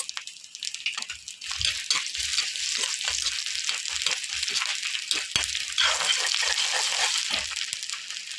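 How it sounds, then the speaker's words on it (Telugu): Ginger and a spoonful of coriander seeds frying in hot oil for a dosa chutney, a steady close sizzle and crackle with occasional stirring scrapes, no talk. "అల్లం ఫ్రై అయిపోయింది కదా ఒక స్పూను ధనియాలు"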